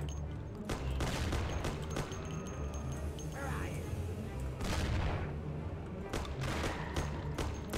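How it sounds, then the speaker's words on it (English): Pump shotguns blast from a distance during a shootout in the game Mafia, repeated booming reports layered over other gunfire and background game noise. "These guys are using pump shotguns from like a mile away."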